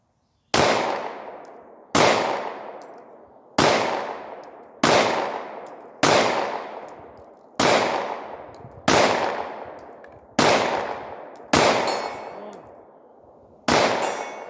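Shots from Glock 43 and Glock 19 pistols are fired at targets 65 yards away, about ten sharp, loud cracks spaced roughly a second or more apart, each followed by a ringing decay.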